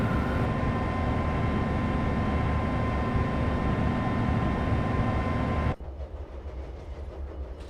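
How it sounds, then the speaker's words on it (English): High-speed HST train rushing past on the fast line, a loud, sustained broadband roar with steady rail rumble that cuts off abruptly near the end, leaving a fainter rumble behind. "Got a HST coming up."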